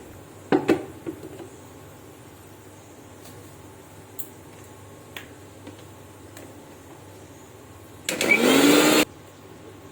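An electric blender grinds ginger, garlic, onion and dried chilli into a paste in a loud, roaring burst of about a second, after several quiet clicks and taps.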